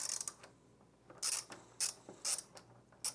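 An Allen key loosens 1/8-inch screws on a buffer brush assembly of an IKON floor machine, making a few sharp metallic ratcheting clicks in bursts against a quiet hum.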